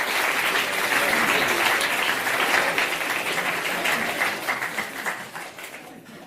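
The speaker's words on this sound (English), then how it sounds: "Can we have a round of applause for Professor Smith?" Audience at a surgery careers event applauding Professor Smith, a sustained dense round of clapping that holds steady for several seconds and then tapers off toward the end.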